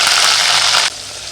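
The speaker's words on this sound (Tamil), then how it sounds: "இப்போ நான் சின்ன வெங்காயம் சேர்த்துக்கிறேன்." Small shallots dropped into hot oil with fenugreek and fennel seeds for a fish kuzhambu, a loud bright hiss and crackle that cuts off sharply to a quieter steady sizzle, no talking.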